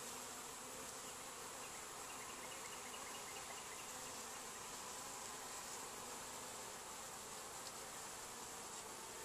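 Honey bees swarm around an open hive with natural beeswax frames, a steady, dense buzz filling the air from start to finish with no voices.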